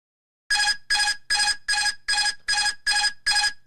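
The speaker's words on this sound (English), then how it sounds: "That's the autopilot disconnecting." Airbus autopilot disconnect warning, a bright repeating chime-like tone sounding in eight evenly spaced pulses after a brief silence, clear and prominent with no talking.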